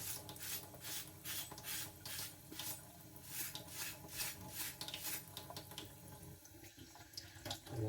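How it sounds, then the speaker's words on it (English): A fine steel sponge rubs along a knife blade to clear the burr, a continuous rhythmic scrubbing rasp with repeated strokes, close and steady throughout with no talk. "Basically a fine steel sponge. Rub that there. Just seeing if I can get rid of that burr."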